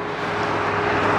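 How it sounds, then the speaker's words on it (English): A big tractor-trailer truck rushes by on a busy road in one brief, broad roar, heard from the roadside without any voices. "All right, comes a big tractor trailer"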